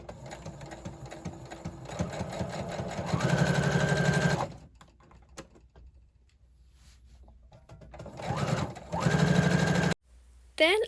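A sewing machine stitches the shoulder seams of a kimono-style cardigan, joining front and back pieces in two loud, steady runs separated by a quiet pause, with a short burst at the end.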